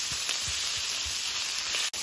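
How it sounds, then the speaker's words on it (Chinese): Cured Chinese pork (larou) stir-fried in a wok to render its fat, with a loud, continuous close sizzle and a few soft scraping stirs throughout. "先把这腊肉给它煸出一点油"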